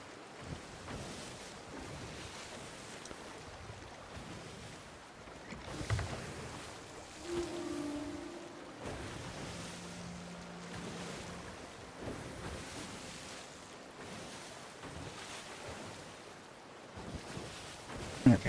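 A ship sailing on ocean waves in Sea of Thieves, with a soft wash of surf and wind rushing around it, low and continuous, joined by a few faint creaks and thumps.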